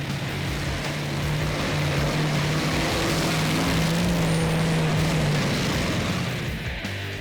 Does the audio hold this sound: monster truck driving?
yes